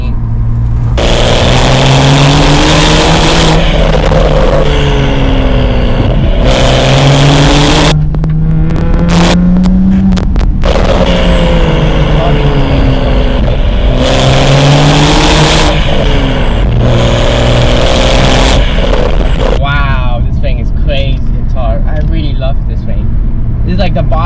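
A BMW M235i with a six-speed manual transmission revs hard through repeated heel-toe downshifts, its engine note rising and falling in sharp blips between gear changes, loud and close, while someone talks over it.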